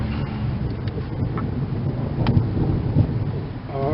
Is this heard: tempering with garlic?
no